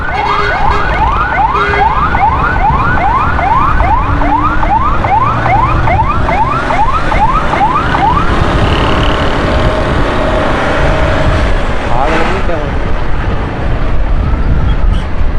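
A loud wailing fire engine siren repeats rapid up-sweeping cycles for several seconds, then cuts off, leaving busy traffic noise and a brief horn-like blast.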